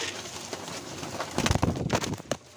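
Young pigeons in a loft during trapping give soft coos and flutters, with busier bursts of bird sound in the second half of the clip and no talk.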